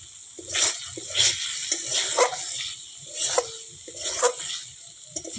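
Potatoes and koi fish fry in oil in a pan for a curry, with a low sizzle under rhythmic stirring scrapes that come in bursts roughly every second, close and moderately loud.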